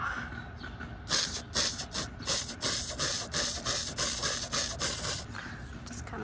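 Aerosol paint sprayed onto a homemade wizard wand outdoors in the sun, several short hissing bursts in a steady rhythm, close and fairly loud, with faint background noise between them.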